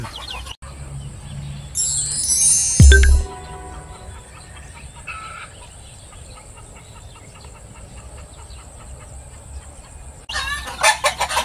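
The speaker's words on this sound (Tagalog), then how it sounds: "Ganito lang mag-alaga ng mga sisiw" Chicks and a hen cluck on a farm where gamecock chicks are raised, with loud squawks and chirps in the first few seconds, softer scattered peeps after, and a burst of clucking again at the end.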